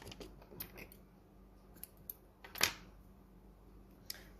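Scissors snipping crochet yarn after finishing a granny square round, a single quiet sharp snip amid faint small handling clicks, no talking.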